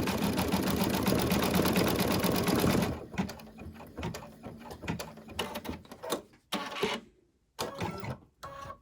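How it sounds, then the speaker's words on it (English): An embroidery machine stitches rapidly with a dense mechanical chatter, then slows into short irregular bursts and pauses of whirring and clicking. "it's going to stitch out kisses"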